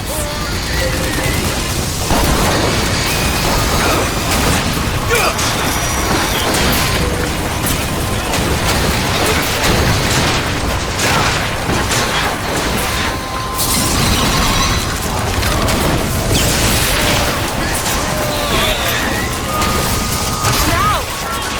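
Rockets firing and exploding during a BioShock Infinite battle near a zeppelin, dense loud bursts, booms and crashes packed together over chaotic game noise for the whole stretch, with voices shouting at times.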